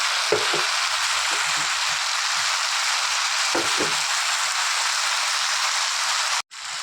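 Mixed vegetables with tomato fry in a pan with a dense, steady hiss of sizzling, close and even, broken by a couple of soft stirring clatters and a brief cut near the end.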